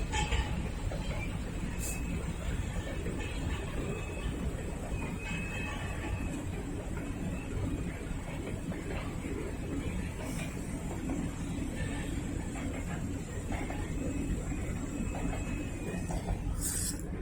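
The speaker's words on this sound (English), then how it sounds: "That's all mixed freight right there." A mixed freight train rolls past a rail yard with a steady, continuous rumble and rattle of wagons, with faint squeaks and clanks throughout.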